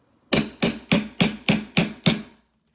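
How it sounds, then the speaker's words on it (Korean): Metal hammer pounding a metal tool while laminate flooring is laid indoors, seven loud, sharp, evenly spaced strikes close by, each ringing briefly. "쇠와 쇠가 부딪히면 얼마나 소리가 크겠어요"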